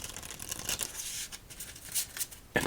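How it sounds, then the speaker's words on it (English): A deck of 8-bit video game themed playing cards being shuffled up close in a quiet room, giving soft riffling and flicking bursts over a few seconds that end in a sharper snap, with no voices. "as we shuffle up these cards"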